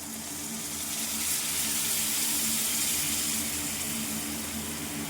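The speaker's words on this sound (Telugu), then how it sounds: "ఇప్పుడు మనము చింతపండు గుజ్జు పోసుకుంటున్నామండి" Tamarind pulp poured into a pan while making tamarind pulihora, a steady watery pour with a faint sizzle, continuous and fairly soft, with a slight swell in the middle.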